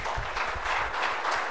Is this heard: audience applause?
yes